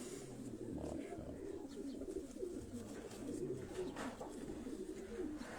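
Domestic pigeons cooing in a loft, soft repeated low coos under a constant murmur of background noise and some distant talk.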